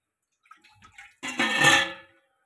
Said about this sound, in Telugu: నీళ్ళు పోస్తాను.